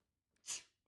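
A single sharp sneeze, close and fairly loud, with a short intake of breath just before it, then quiet.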